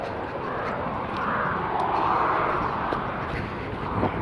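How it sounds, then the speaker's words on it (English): A small private jet takes off, heard as a broad, steady roaring rush at fairly high level that swells slightly in the middle, with scattered faint clicks and no clear talk. "I think it's a private jet"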